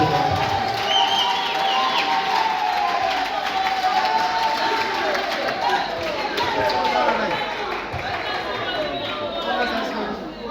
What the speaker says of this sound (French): Applaudissons encore plus fort